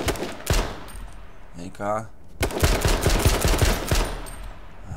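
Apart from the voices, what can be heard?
gunshots in the video game H1Z1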